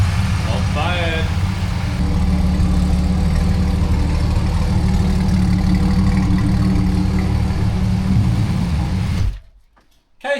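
A Holden 3.8 V6 Ecotec swapped into a VZ Commodore SV6 idles with a steady low hum under a person talking, before the sound cuts off near the end.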